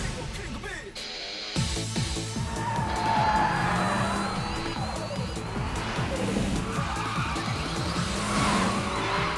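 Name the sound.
Lancer Evo car racing and skidding, Initial D video game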